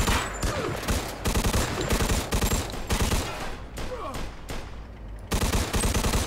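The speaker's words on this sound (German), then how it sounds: "Wir haben aber auch noch die Tommy Gun hier." Bursts of Tommy Gun automatic fire in the video game Mafia 2, loud, rapid rattling volleys with short pauses between them, no talking.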